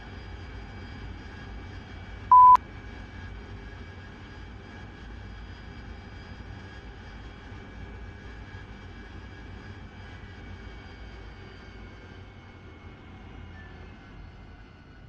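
An AV-8B Harrier jet in the DCS flight simulator taxis with a steady, subdued engine whine and hum, holding constant throughout with one brief click early on.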